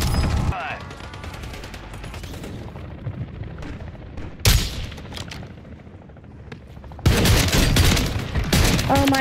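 Shotgun blasts in the Warzone battle royale game, loud sharp bursts at the start, around the middle and in a heavy cluster near the end, amid other gunfire and background game noise.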